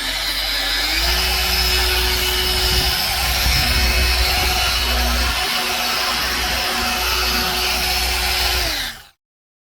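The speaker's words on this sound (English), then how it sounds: "now I'm just going to go over the whole panel with the 5-inch with the soft pad and the micro cut finishing polish" A 5-inch car polisher with a soft pad and micro-cut finishing polish works a panel of a Ford EF XR6 Falcon. The motor whines steadily and loudly up close, spinning up at the start and winding down to silence near the end.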